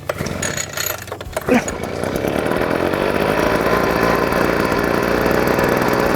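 A new Stihl-style BP43C petrol leaf blower is pull-started. The engine catches after a few sharp cord pulls and settles into a loud, steady, close running drone.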